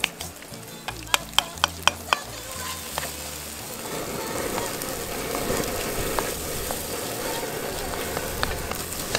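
A chicken mixture for chanka seca de pollo is stirred in a pan with sharp utensil clicks at first, then settles into a steady, close sizzle as salt goes in.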